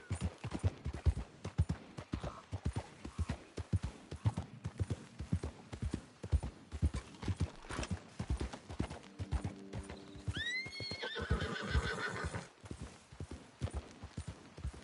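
Steady rhythmic clip-clop of a trotting horse's hooves in the Western video game Red Dead Redemption 2, with a short whinny partway through. Everything sits fairly quietly in the mix.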